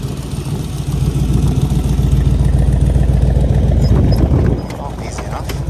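A 1962 Buick Electra 225 two-door hardtop engine running while the car drives around the block, a loud steady low rumble that eases off near the end, with a voice heard briefly.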